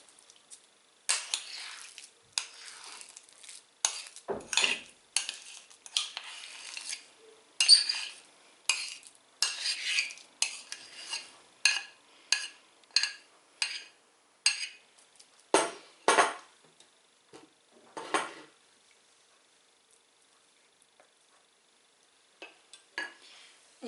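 Mashed potatoes being worked into salt cod fritter batter in a bowl: a series of irregular wet scrapes and taps of a utensil, fairly close, with quiet pauses and no talking.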